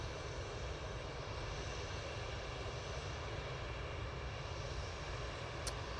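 An EasyJet airliner's engines roar in a steady, continuous drone at Manchester Airport, heard from a distance and without talk.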